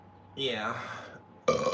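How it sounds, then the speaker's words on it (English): A single drawn-out burp from a person rises and trails off, followed by a short spoken word right after. "Sometimes burps smell worse than farts."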